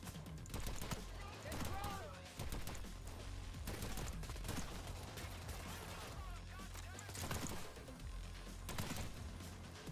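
Shotgun blasts from a video game crack out repeatedly amid dense, busy combat noise, with bursts spread across the stretch and a voice talking over the action.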